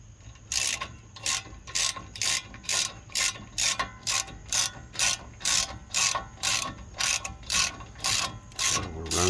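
A ratchet runs down 13 mm bolts during lower ball joint work on a 2004 Dodge Ram 1500, giving about eighteen quick, evenly spaced metallic clicking bursts, close and clear, with a steady low hum underneath.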